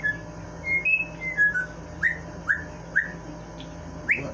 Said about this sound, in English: Who are you whistling at, dude?